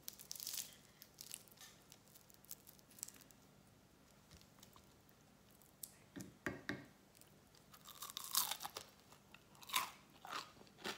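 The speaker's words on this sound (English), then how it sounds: "but I want you to hear how crunchy these are." Crunchy potato waffles are bitten and chewed close to the mic, with quiet stretches broken by sharp crunches that grow busier and louder toward the end.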